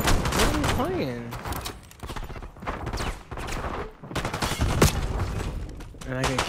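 Rapid gunfire from a Call of Duty Black Ops 6 match crackles in dense bursts throughout, layered with in-game effects and voices talking over the action.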